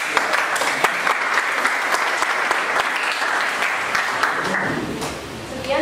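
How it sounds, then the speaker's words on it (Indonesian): A classroom of students in a tenth-grade trigonometry lesson applauds a group's presentation, steady brisk clapping from many hands, close and sustained for several seconds before tapering as a voice begins near the end. "Diberikan tepuk tangan ya."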